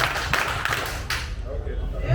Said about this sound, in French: on applaudit 3 fois